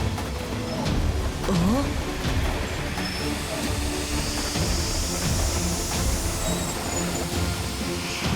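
A train running in an animated cartoon, with a steady rumbling, hissing rail clatter carrying through the clip at moderate level, a brief whistle-like squeal rising early on, and a voice talking over it.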